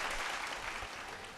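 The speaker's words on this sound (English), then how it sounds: "If we could have a round of applause, please" Studio audience at a televised vocal competition show breaks into a dense, even wash of clapping, continuous and moderately loud for over a second.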